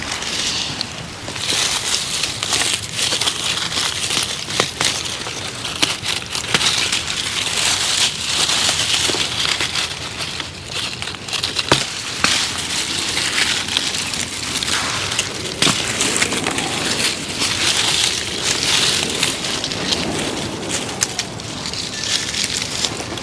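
Ivy vines are pulled out of a suburban garden, producing a steady close rustle of leaves and snapping stems with scattered sharp cracks, continuous throughout without talk.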